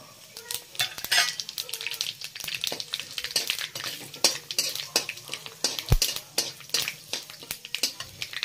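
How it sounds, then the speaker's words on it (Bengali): Cumin seeds, a dried chili and bay leaf crackle and sizzle in hot oil in a pan, with a spoon clinking and stirring in irregular bursts close by. "তেলটা ভালো করে গরম হয়ে গেছে, এবার দিয়ে দেবো জিরা, একটা শুকনো মরিচ আর তেজপাতা"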